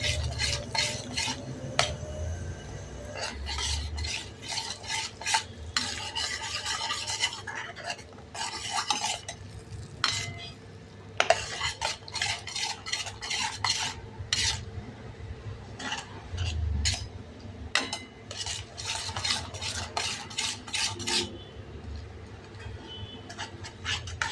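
Semolina and gram flour roasting in a pan while a spoon stirs, producing repeated scraping and clinking of metal against the pan in an irregular rhythm over a faint sizzle.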